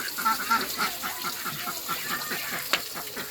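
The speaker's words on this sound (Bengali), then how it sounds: "আমাদের হাঁসগুলো ডাকতেই থাকে শুধু" Ducks at a village pond give repeated nasal quacks in short bursts, moderately close, over steady outdoor background noise with no talking.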